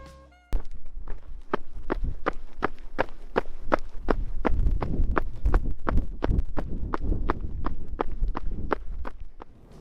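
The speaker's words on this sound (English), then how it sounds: "It just makes a lot of noise when I'm running in it." Quick, regular running footsteps in Nike Vomero 17 shoes slap sharply on a hard surface, each stride loud and clicky, over a low rumbling background.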